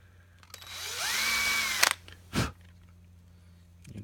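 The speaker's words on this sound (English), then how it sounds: "So we're just gonna go in here and drill these out." Small drill whines up to speed and runs steadily for about a second while boring holes in the frame of a 1/64 scale Peterbilt model truck, then stops, followed by a short scraping sound in a quiet room.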